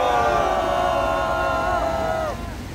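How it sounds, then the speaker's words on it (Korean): At a civil society press conference, a crowd gives a sustained shouted cheer lasting a little over two seconds. The voices hold steady and loud together, then cut off and fade quickly into a quiet room. "우리 모두 경례 함성 와를 3초간 부탁드립니다."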